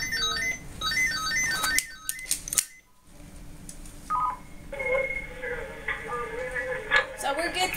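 A nursing call light and seat belt alarm adapter chirps and warbles close by with electronic beeping tones, then a sustained alarm tone sounds in repeated pulses as the patient disconnects, with background voices.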